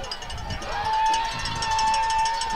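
A crowd of standing fans at a night high school football game, Newport versus Glen Rose, keeps up a steady roar, with a sustained whistle-like tone and a voice talking over it.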